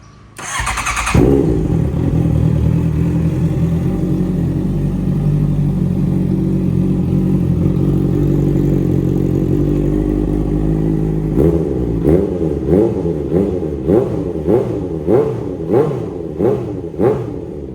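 A 2016 Honda CBR650F with an AR exhaust starts, settles into a loud, steady idle, then gets blipped in a series of quick, rhythmic revs, all close to the bike with no talk.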